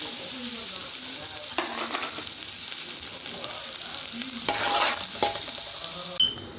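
Chopped onion frying in hot oil gives a steady, loud sizzle while a spoon stirs and scrapes through it, and the sizzle drops away sharply right at the end.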